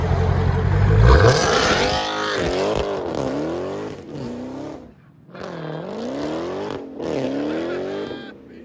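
A 2018 Dodge Demon's supercharged 6.2L Hemi V8 with straight-pipe dual exhaust revs hard with tire squeal at first, then climbs through several rising, whining pulls with brief lifts between them.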